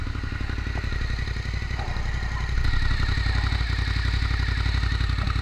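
A Suzuki SV motorcycle engine idles while warming up, a steady close rhythmic chug with a faint high-pitched chirp, growing slightly louder midway.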